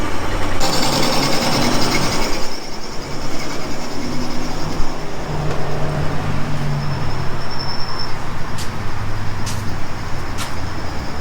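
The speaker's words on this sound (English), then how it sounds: "So over here at the drill press, I'm gonna go ahead and drill it out." Steady loud mechanical whir of a drill press drilling metal continuously, with a constant motor hum and occasional sharp ticks near the end.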